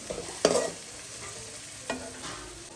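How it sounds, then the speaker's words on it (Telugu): Ginger garlic paste fries in a pan with a soft, steady sizzle, broken by two quick scraping stirs of a spoon against the pan. "అల్లం వెల్లుల్లి పేస్ట్ వేగిపోయిందండి"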